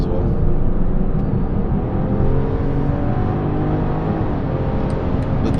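A BMW X5 with a B58 engine accelerating, heard from inside as a steady, smooth engine drone rising gently under road noise for several seconds, with no clear talk.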